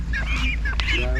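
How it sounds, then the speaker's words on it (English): Ducks at a rural house in Mayong, Assam give a few nasal honking calls close by over a steady low background hum, with faint squeaky sounds between the calls. "Okay, you have ducks as well."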